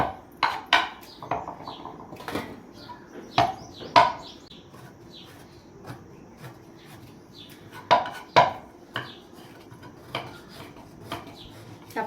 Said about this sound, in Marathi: आपल्याला गूळ पण बारीकच खिसून घ्यायचा आहे